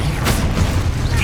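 A Confringo blasting spell detonates in the Hogwarts Legacy video game, giving a loud, dense burst of booming noise that fills the short moment without a break.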